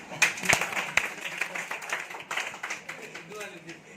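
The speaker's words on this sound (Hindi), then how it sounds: "ठोको ताली" An audience claps at an Independence Day school gathering in India, starting with a few sharp individual claps and building into scattered group clapping, with voices and chatter mixed in underneath.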